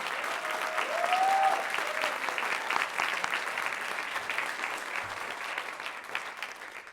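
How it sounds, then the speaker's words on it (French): A gala audience breaks into warm, sustained applause, dense clapping from a large crowd that stays steady and slowly eases off, with a brief murmur of voices near the start. "On peut-tu leur donner une petite main d'applaudissement?"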